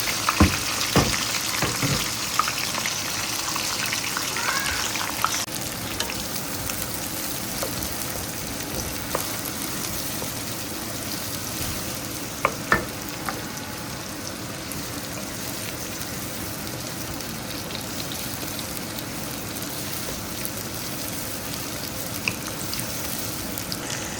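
Onion and green chili frying in a pan for a grilled beef chunk rib biryani, a steady sizzle with fizzing and a few brief stirring clatters throughout, no talk.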